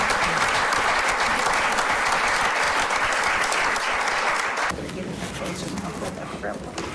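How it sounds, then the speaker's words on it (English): A crowd at a Nebraska bill-signing event applauds and cheers loudly and steadily, the dense clapping easing slightly toward the end. "I think that's something we need to clap and shout about."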